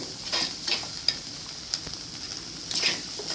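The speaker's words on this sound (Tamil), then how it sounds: "இதுக்கு தேவையான உப்பும் போட்டு நல்லா வறுத்துடணும் இது இது மீனும் நல்லா வேகணும்" Fish frying with salt in a pan, a continuous gentle sizzle broken by several sharp stirring clicks and scrapes of a utensil against the pan.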